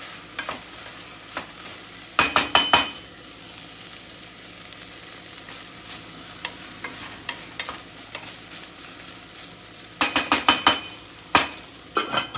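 Onions sizzle softly in a hot pan for a lentil dish, with clattering bursts of stirring utensil against the pan near the start and end and quieter scrapes between.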